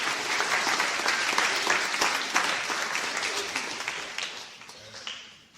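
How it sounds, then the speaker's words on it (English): A church congregation claps together in a loud, dense round of applause that holds steady and then fades away near the end. "How about a nice, I don't know, round of applause for ourselves?"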